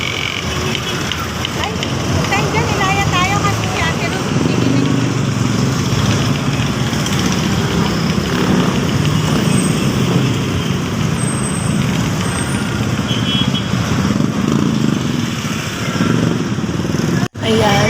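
Street traffic rumbles on a roadside while people wait for a jeepney toward Divisoria early in the morning, with continuous loud engine noise from passing motorcycles and larger vehicles and a steady busy hum.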